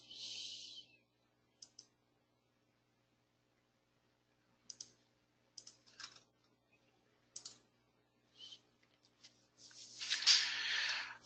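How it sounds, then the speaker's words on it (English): Sparse mouse clicks on a computer while selecting a link, short isolated clicks spaced irregularly, quiet and close, ending with a brief burst of keyboard-like clatter. "I'm going to again click on the Suggest Clues link."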